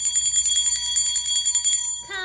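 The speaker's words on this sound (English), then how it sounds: "And finally, the old man rang the bell." A bell is rung to call people to eat, with rapid repeated bright rings close by for about two seconds before a sliding tone cuts in.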